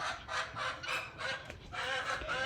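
Chickens clucking and calling in a steady, overlapping chorus, with what sounds like a rooster among them, fairly close.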